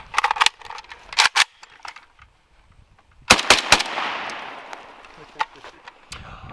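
AK rifle fire outdoors: sharp, loud cracks arrive in small clusters of two or three quick shots, then a longer burst with a rolling echo tail, followed by a few scattered single shots.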